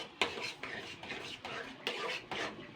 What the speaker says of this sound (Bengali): এবার আমি জল দিয়ে দেবো, এভাবে নাড়তে হবে।